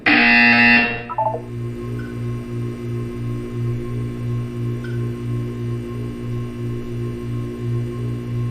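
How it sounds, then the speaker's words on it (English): In the Portal 2 video game, a loud buzzer blares for about a second, then cuts off. A low hum follows with a regular pulsing beat and faint electronic chirps. "You will hear a buzzer."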